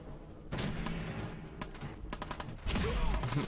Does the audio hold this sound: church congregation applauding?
no